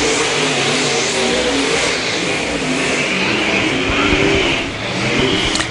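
A modified race car roars around a dirt speedway during a qualifying heat, loud sustained engine noise that rises and falls as it passes, with a track announcer faintly under it.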